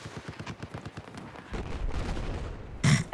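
Rapid bursts of automatic gunfire in the Battlefield 4 video game, a string of evenly spaced shots followed by heavier continuous firing and a loud impact near the end, with no talking.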